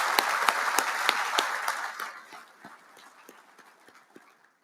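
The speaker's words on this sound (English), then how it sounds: "join me in one more round of applause for these fantastic young Marines" A banquet audience at a Marine Corps awards dinner applauds for young Marines, dense steady clapping that starts loud and full, then thins out and fades to a few scattered claps by the end.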